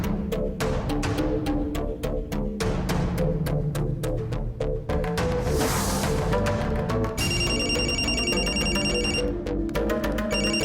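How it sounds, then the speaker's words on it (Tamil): A telephone rings on and on without being answered, its bright repeating tones cutting through dense background music in a Tamil TV drama scene; no one speaks. "ரிங் போயிட்டே இருக்க, எடுக்க மாட்டேங்கிற"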